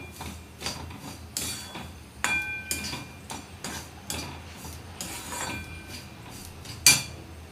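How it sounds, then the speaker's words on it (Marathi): Semolina roasting in ghee in a pan over a low flame, stirred with a metal spoon: sharp clinks and scrapes against the pan come at irregular intervals over a faint background hiss. "मंद आचेवर व्यवस्थित रवा भाजून घ्यायचा आहे।"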